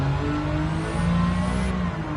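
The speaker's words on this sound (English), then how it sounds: "nice turbocharged engine. It does sound like a turbocharger at least, which is nice." Turbocharged car engine in Gran Turismo 7, a steady droning hum with a faint high whistle riding on top, continuous and close for a couple of seconds.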